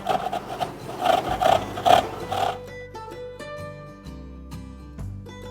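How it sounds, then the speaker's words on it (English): Fresh ginger root scraped across a grater in about half a dozen rhythmic rasping strokes, close and fairly loud, lasting only a couple of seconds before giving way to music. "now we want to grate some ginger and add this"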